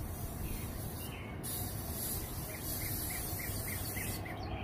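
The inside surfaces of a 250-gallon offset smoker are sprayed down during initial seasoning, giving a continuous close hiss that lasts throughout the clip.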